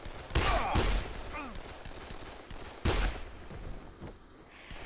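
Sharp gunshots in the zombie game Dead Island, a couple of loud close cracks with scattered fainter shots between, over ambient game noise and brief voices.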